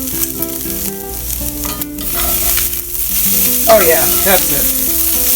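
Pork carnitas sizzle loudly and steadily in a frying pan, a close, continuous crackling hiss with a brief voice speaking over it.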